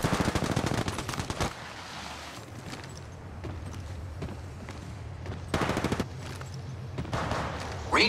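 Apex Legends weapon fire: rapid automatic bursts at the start and again midway, crisp and close, with quieter ambient game noise between the volleys.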